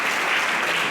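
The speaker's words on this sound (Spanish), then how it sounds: "Enrique, le damos un aplauso de recepción" A congregation applauds to welcome a pastor, a dense, even burst of many hands clapping together, loud and close, over a short span.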